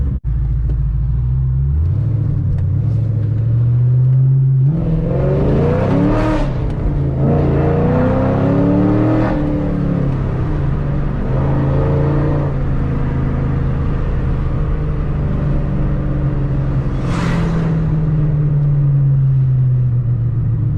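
Cammed 3V Ford Mustang GT V8 driving from inside the car: a steady low rumble builds into several strong revving pulls with rising pitch, loud and close, then settles back to cruising.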